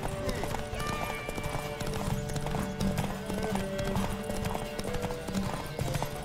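In The Witcher 3, a horse races on a track with a rapid, steady clip-clop of hooves under game music and someone talking.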